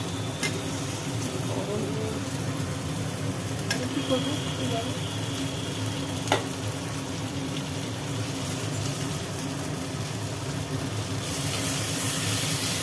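Fried potatoes tossed in spice masala in a pan give a continuous low sizzle and soft stirring, with a few faint utensil taps; a steady background hiss runs underneath.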